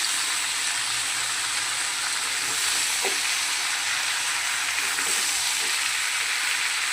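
Spice masala frying in a pan for a rohu fish curry gives a steady, close, bright sizzle that hisses evenly throughout, with a few faint clicks and no voices.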